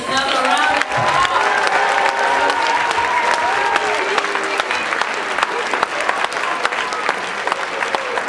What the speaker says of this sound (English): let's give our children another round of applause